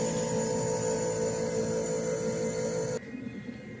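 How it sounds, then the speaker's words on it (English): An air compressor and heater running together in a garage, a steady close hum and whir that drops away abruptly near the end, leaving quieter rumble. "I got all these noises going on right now. The air compressor, the heater's going."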